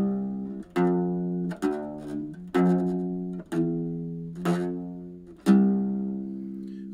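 A mandocello plays a slow fourth-finger fretting exercise, about seven plucked notes in an even sequence, each ringing warmly and decaying before the next, close and clear with no talking.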